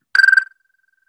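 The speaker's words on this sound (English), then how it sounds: "That high-pitched trill is an American toad." An American toad gives a short high-pitched trill, a quick pulsing burst lasting about a third of a second, clear and fairly close, heard alone.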